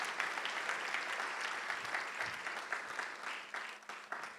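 Church congregation applauds in a steady, moderately distant patter of many hands that holds for several seconds without pause.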